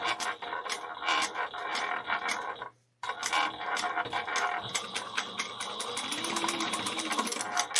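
A sewing machine stitches a bag seam, its needle hammering in a fast, close mechanical rhythm that pauses briefly before resuming steadily and a little louder.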